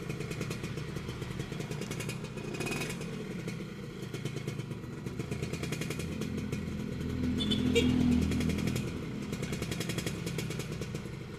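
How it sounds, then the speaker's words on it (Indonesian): A Suzuki Satria R 120 motorcycle with its standard exhaust runs at a steady idle, a continuous mid-pitched engine rumble with light mechanical clatter and a brief rise in revs partway through, heard alone without voices. "Sekarang posisi pakai ini ya, knalpot standar."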